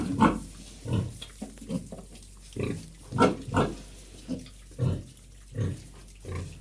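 A nervous sow that has recently farrowed gives a series of low, close grunts at a steady, uneven rhythm, about a dozen in a row.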